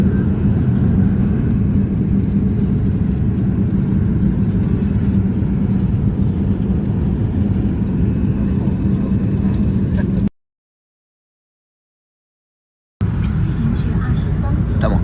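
Airplane cabin on approach just before landing on a long flight from Chile to China, a steady loud engine drone and rumble with a brief cut to silence near the end.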